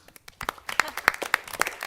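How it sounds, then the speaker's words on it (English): A short burst of scattered applause from a small group at a board of trustees meeting, claps irregular and moderately loud. "Let's give all of us a big round of applause."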